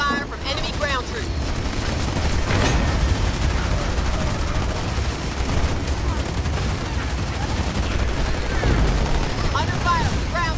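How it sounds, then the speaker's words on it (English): Sustained gunfire from enemy ground troops in Halo Wars 2, dense volleys and booms rolling continuously at high volume, with voice lines and chatter layered over the battle. "Boarded under fire from enemy ground troops."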